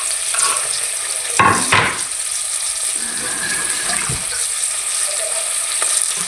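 Tomatoes sautéing in a pan for chicken sinigang give a steady frying sizzle, with a couple of louder stirring scrapes and clatters partway through and no speech.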